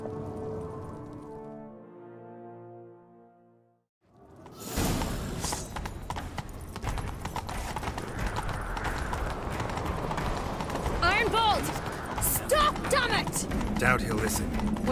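Horses gallop with steady clip-clop hoofbeats in The Witcher 3, a loud continuous run that starts abruptly after a quiet musical intro, with game sounds and brief calls mixed in.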